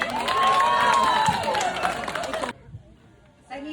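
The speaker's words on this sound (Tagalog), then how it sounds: "Bakit di nyo po natin palakpakan at sigawan, Miss Sanya Lopez?" A crowd at a pageant self-introduction on the GMA7 grounds roars with applause, shouting and a shrill whistle for about two and a half seconds, then drops to near quiet before a brief swell returns at the end.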